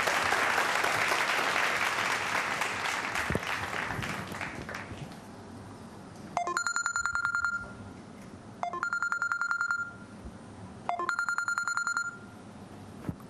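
Applause from a theatre audience fades out, then a telephone rings three times, each ring a bright trilling burst about a second long with pauses between, alone and fairly clear.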